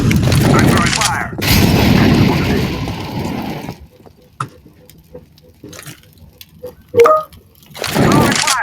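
An incendiary grenade in Counter-Strike 2 bursts into loud roaring fire that fades after a few seconds, leaving scattered clicks, footsteps and a sharp crack, with game chatter and noise around it.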